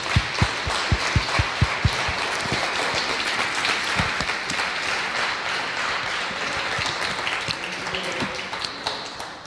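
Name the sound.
church congregation applauding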